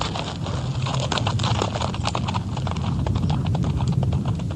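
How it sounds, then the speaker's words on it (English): Steady clip-clop of carriage horse hooves on a hard road, continuous and fairly close, with a faint rumble of wheels beneath. "As Johann turned his horses toward Munich"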